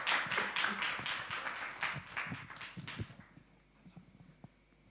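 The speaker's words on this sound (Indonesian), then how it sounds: "Tepuk tangan dong." Audience at a worship coaching clinic for vocals and keyboard clapping in a burst of applause that fades out after about three seconds, leaving a few scattered claps in a quiet room.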